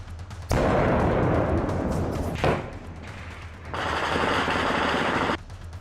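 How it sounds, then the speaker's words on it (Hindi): Gunfire and blasts along the India–Pakistan border: a dense, loud burst of rapid fire fills most of the clip, with a sharp bang near the middle and a second sustained roar of shooting toward the end. "फायरिंग का शोर और धमाकों की आवाजों ने पाकिस्तान से लगी हिंदुस्तान की सीमा पर नींद खराब कर रखी है।"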